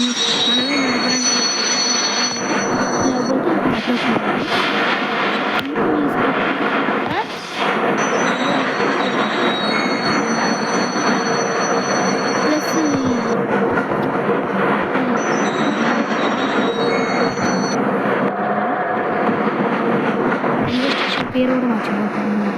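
A train at a railway station in the Indian Bike Driving 3D video game, a loud continuous rumbling rail sound with squealing wheels and steady clatter, running throughout with someone talking over it.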